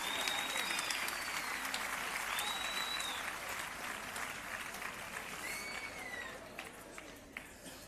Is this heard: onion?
no